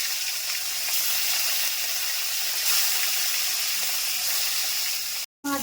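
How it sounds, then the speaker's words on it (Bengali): Rohu fish fry in hot mustard oil in a kadai, a steady close hiss and sizzle that carries evenly until it cuts off abruptly near the end. "মাছগুলো ভেজে নেব।"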